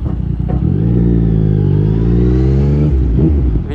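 A Yamaha MT-09 motorcycle engine revs loud and close, its rising, steady harmonic drone holding for about three seconds before dropping off, with a shorter blip of throttle near the end.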